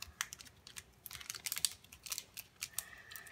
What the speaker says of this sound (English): let's crack it open and see